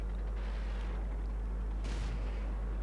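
A tank cannon fires in the World of Tanks video game, with the Vickers Mk. II as the player's tank. A loud boom and crack come near the end, over a constant low game hum, and no one speaks.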